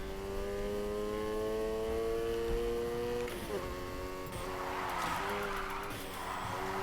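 A car drifts in Need for Speed Heat, its engine holding a steady high drone that breaks into squealing, skidding tires in the later seconds, fairly quiet overall.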